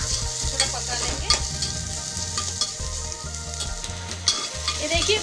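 Onion, capsicum and carrot sizzle and fry in a pan, with the steady crackle broken by rhythmic scraping and stirring strokes, close and moderately loud.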